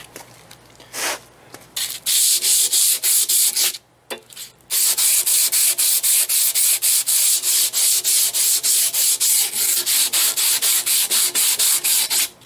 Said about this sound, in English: kind of sand down around here and around the outside and make it look and feel just a little bit better